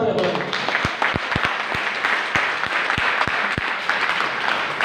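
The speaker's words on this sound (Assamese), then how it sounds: "তেখেতৰ কাৰণে এটা জোৰদাৰ হাত চাপৰি দিব" An audience at an Assamese RCM marketing meeting claps for a guest, steady crowd applause with sharp individual hand claps standing out near the microphone throughout.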